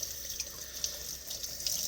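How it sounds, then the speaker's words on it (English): Tap water runs steadily over cured Canadian bacon in a kitchen sink, washing off excess cure and salt, a continuous close splashing hiss with small drip-like spatters and no talk. "We're going to go ahead and run this under some water."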